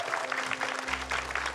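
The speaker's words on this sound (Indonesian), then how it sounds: "Tepuk tangan dong." Studio audience applause on an Indonesian televised preaching competition show, a steady patter of many hands clapping at moderate level for over a second, with a low hum underneath.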